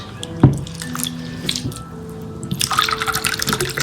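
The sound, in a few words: water poured into cooking pot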